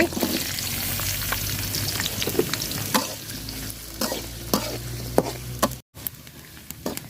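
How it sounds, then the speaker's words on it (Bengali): Chopped onion with cardamom, cinnamon and bay leaves fries in hot oil in a heated pot for a beef curry, a dense continuous sizzle punctuated by frequent spoon scrapes and taps, with a brief cut near the end. "তেল দিয়ে দিলাম এলাচ দারচিনি তেজপাতা দিয়ে দিলাম আর দিয়ে দিলাম পেঁয়াজ কুচি"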